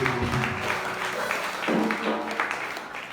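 Applause from a church congregation, a steady wash of many hands clapping at moderate volume that lasts throughout.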